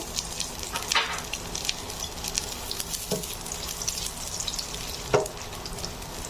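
Garlic cloves frying in hot oil, a continuous close sizzle with a few scattered scrapes and clinks of a spoon against the pan.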